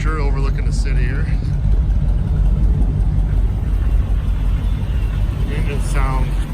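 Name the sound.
1960 Chevrolet Impala 348ci Tri-Power engine and exhaust running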